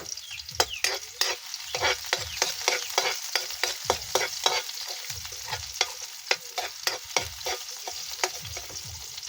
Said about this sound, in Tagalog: Ilagay na natin yung ating sibuyas mga kapat.